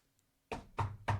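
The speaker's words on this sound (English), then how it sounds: "Knock, knock, knock." Knocking on a wooden door in an older duplex: three firm, evenly spaced raps after a brief quiet pause, close and clear with a hollow thud.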